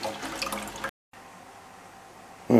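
Water pours and splashes into an aquarium tank for Betta fish, a steady gushing flow that briefly cuts out and then resumes, ending in a louder splash.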